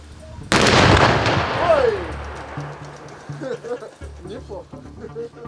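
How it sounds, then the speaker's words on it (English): Controlled detonation of explosives on sandy demined ground in Donbas: one sudden heavy blast with a long rumbling decay, followed by people talking nearby. "From a safe distance, we watch the explosion."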